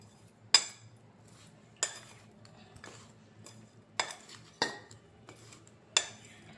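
A utensil taps and scrapes against a bowl while a mustard pickle mix with fenugreek is stirred, a few sparse, fairly faint clinks spaced a second or more apart, no voices.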